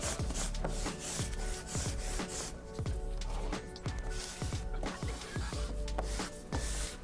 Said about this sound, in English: grab your squeegee and just tack it down